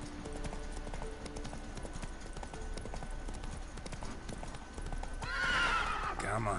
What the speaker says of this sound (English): You stay there, Roach. You be a good horse.